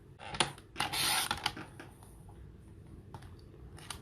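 A paper trimmer slices through cardstock while a Santa treat box is being made. A short, scraping blade stroke is heard close up, surrounded by a few light taps and shuffles of paper.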